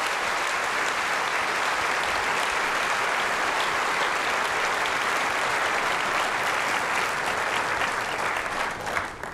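Sustained loud audience applause at an Apple WWDC keynote, a large crowd clapping steadily for several seconds before starting to fade at the end.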